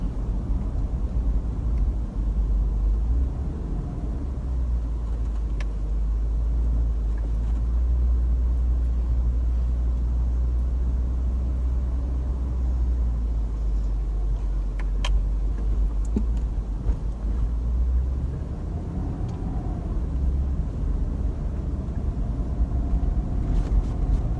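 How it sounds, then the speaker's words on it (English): A Lexus LX570 with a 5.7L V8 rolls along an unpaved road, giving a steady, loud low rumble of engine and tyres that holds for the whole stretch, with occasional small knocks and rattles from the rough surface. "right now we're on a bit of an unpaved road, and the LX is handling it quite well"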